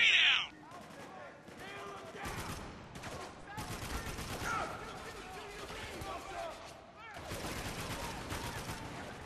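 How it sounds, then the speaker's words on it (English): Heavy gunfire in the Spec Ops video game rattles in dense, sustained bursts close by, broken by brief lulls, with shouted voices mixed in. "We're taking some heavy fire here!"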